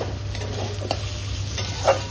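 Soya chunks being stirred and roasted with spices in a pan for a soybean and pea curry: a steady sizzle with soft, repeated scraping strokes of the spoon, close and fairly quiet, with no talking.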